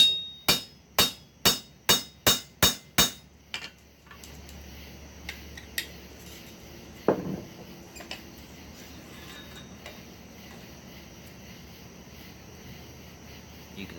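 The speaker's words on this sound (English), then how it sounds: "Alright, let's punch a hole in it." Hammer driving a punch through hot steel at a forge while making a tong rack: seven loud, evenly spaced ringing blows, then quiet shop sounds with a few lighter taps and a sharp clank.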